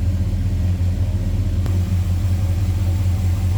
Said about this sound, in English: You can see how this truck drives down the road.